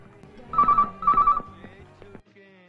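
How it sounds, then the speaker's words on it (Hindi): A telephone rings in a scene from a Hindi dubbed movie, two loud electronic trilling bursts in quick succession followed by quieter background sound. "गौतम, लगता है कोई हमसे मजाक कर रहा है, फोन मत उठाना।"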